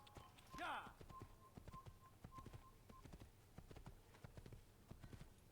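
Horse hooves gallop in an Assassin's Creed game, a steady rapid clip-clop under in-game sound effects and a brief tone, with a voice talking over it.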